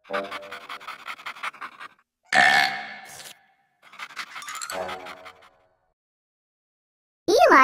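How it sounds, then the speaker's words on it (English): A burp rings out loud and close, set among panting and breathy sounds that come in separate bursts, with short silences between them and a sharp sound at the end. "Burp."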